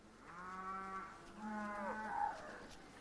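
Cattle grazing on fresh grass moo in two long, low, drawn-out calls, one after the other, heard fairly faint in an open outdoor setting with no talk over them.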